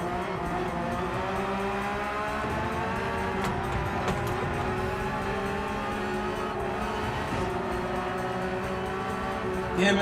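A race car engine in Gran Turismo 7 at Yas Marina roars steadily at high revs, with a brief dip and shift in pitch midway as the driver lifts off the throttle, continuous and loud throughout.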